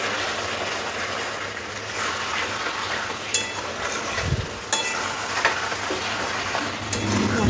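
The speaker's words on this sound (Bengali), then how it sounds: "মশলার সাথে চিকেনটা খুব ভালো করে এরকম কষে নিতে হবে" Chicken with Kashmiri chilli powder and spices is sautéed in a pan for a dhaba-style curry, a continuous close sizzle with scattered clinks and scrapes of stirring and no voices.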